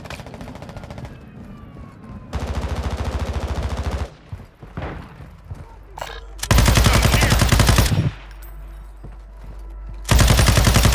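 Sustained automatic gunfire in Call of Duty Modern Warfare 2 DMZ at Al Mazrah, loud bursts that start and stop sharply in long blocks, with quieter gaps of distant shots and battlefield noise between them.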